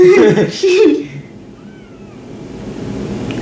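A small cat gives a couple of short meows at the start, close and fairly loud, followed by quieter background hiss and faint voices nearby.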